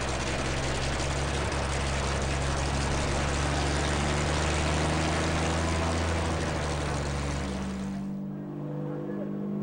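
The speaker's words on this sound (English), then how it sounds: "We go to the tarmac as our first pilots start their engine." Propeller race planes run their engines on the tarmac at a Red Bull Air Race in Monument Valley, a loud, steady droning roar that holds for about eight seconds and then cuts off abruptly.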